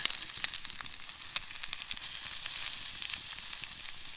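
Bacon and eggs frying in a pan over an outdoor campfire, a steady, soft, crackling sizzle with tiny pops throughout, fairly quiet and close.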